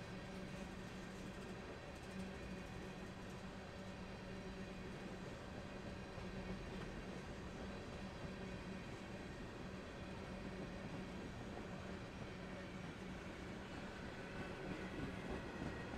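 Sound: freight train passing

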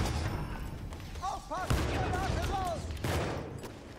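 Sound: gunfire in the video game Battlefield 1

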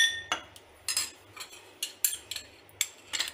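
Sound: spoon adding sugar syrup to mocktail glass

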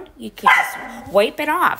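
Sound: dog barking

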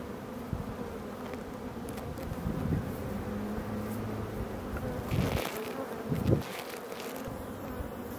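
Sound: honey bees flying around an opened beehive during honey harvest

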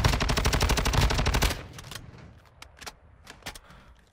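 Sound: gunfire in the video game Warzone 2.0

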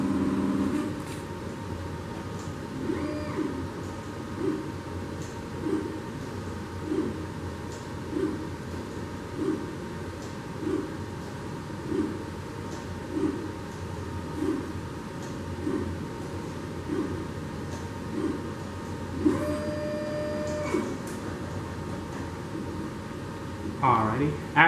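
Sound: laboratory plate reader reading samples

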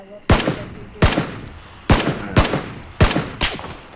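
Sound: sniper gunfire in the video game PUBG: Battlegrounds

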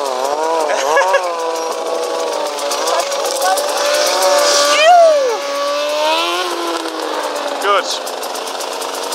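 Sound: KTM EXC 300 dirt bike engine running

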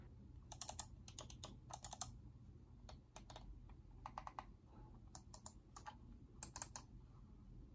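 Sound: gaming mouse button clicks

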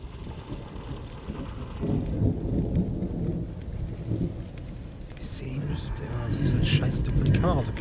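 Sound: thunderstorm with rain in the video game The Evil Within

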